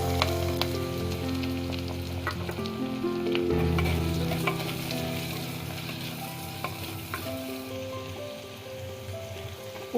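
Curry leaves and chopped shallots fry in hot oil, a dense, continuous sizzle with a soft rain-like crackle and occasional stirring scrapes, close and steady throughout.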